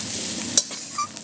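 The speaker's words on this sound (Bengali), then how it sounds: "তেলের সাথে সমস্ত উপকরণগুলো ভালো করে মিশিয়ে নিয়েছি।" Spices and Kashmiri chilli powder stirred and fried in hot oil for a rohu and katla fish head dish, giving a steady close sizzle with a brief scrape of the spoon midway, no voices.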